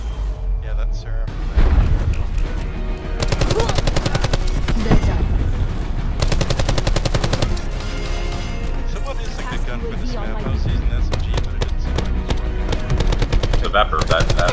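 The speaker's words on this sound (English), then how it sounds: "The Vapor that guy's using is a great gun on this map." Rapid automatic gunfire from a Vapor SMG in the video game Call of Duty Black Ops 4 multiplayer on a Capture Moshpit match, dense bursts with explosions, loud and continuous across the whole stretch, voices chatting underneath.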